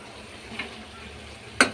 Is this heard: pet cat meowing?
no